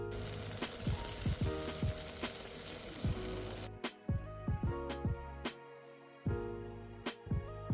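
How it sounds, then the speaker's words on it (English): A tomahawk steak sears on a charcoal Weber grill. A dense sizzle runs loud for the first few seconds and then breaks off, leaving scattered sharp pops and crackles. "let the tomahawk dance on the floor. We're gonna let it sit on the grill for 5 minutes per side"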